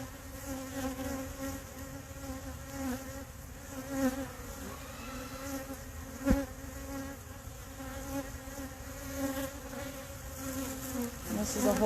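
Honey bees swarm around an open hive with queen cells and brood frames, making a close, continuous buzzing drone that swells and fades with occasional louder passes. A faint bump sounds partway through.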